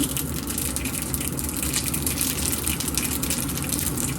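Shrimp and chive dumplings splatter and crackle in hot frying oil in a pan, a steady, dense sizzle that runs loud and unbroken close by, with no voices.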